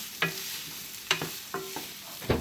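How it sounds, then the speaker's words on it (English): A utensil stirs vegetables in a frying pan in repeated scraping strokes, four or five sharp knocks and scrapes spaced roughly half a second to a second apart over a faint sizzle, close and clear with no talk. "So I'm stirring my veggies"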